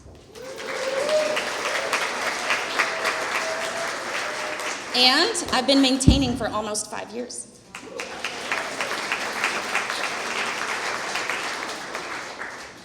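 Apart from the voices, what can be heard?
audience applause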